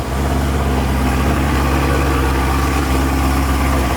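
A cammed Chevrolet Corvette C7 Z06 V8 idles close by, a loud, continuous low rumble with a slightly uneven, choppy pulse throughout, no voices.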